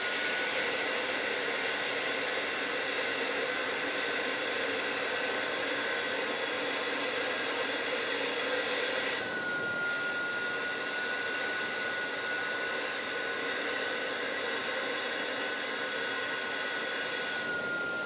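Suction from a Fanttik Textra 11 Apex cordless carpet spot cleaner pulling on carpet: a steady, loud whirring motor hiss with a faint high whine, slightly shifting in pitch midway, running continuously with no talk.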